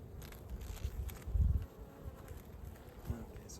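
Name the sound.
honey bees at a hive fending off a hornet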